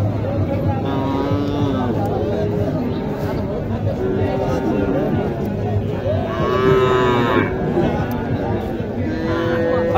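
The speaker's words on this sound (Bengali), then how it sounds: "এখানে একটি শাহিওয়াল বাছুর দেখছেন।" A Sahiwal bull calf, about eight or nine months old, moos repeatedly at a busy cattle market in Naogaon, with other cattle calling and crowd chatter filling the background throughout.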